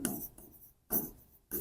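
Writing on paper during a math lesson on cost and selling price, with quick scratchy pen or chalk strokes in three short bursts, close and moderately loud, separated by brief pauses.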